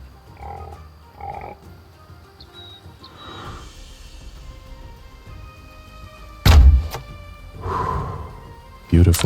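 A rifle shot rings out in the Way of the Hunter hunting game, a sharp loud crack followed by another impact a few seconds later, with a voice talking softly in between.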